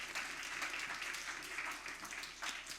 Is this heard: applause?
yes